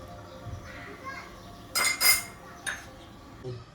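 A few sharp metallic clinks and scrapes of a utensil against a mixer jar while taking out roasted makhana, two close together then one more, over quiet background.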